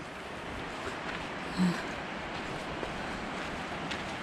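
Steady broadband rush of Siklawa waterfall on a mountain trail in the Tatra mountains, a continuous even roar filling the background with no talk.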